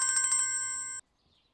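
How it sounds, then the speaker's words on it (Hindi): A mobile phone ringtone plays loud and close as a bright repeating electronic melody with steady tones, then cuts off abruptly, leaving near silence. "फोन बज रहा है तुम्हारा, देखो जरा, उठा लो"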